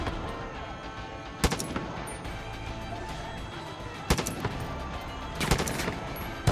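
Bursts of gunfire in the Far Cry 5 video game, sharp loud shots at about 1.4, 4.1 and 5.5 seconds, including rapid clustered volleys, over a dense steady background of game noise.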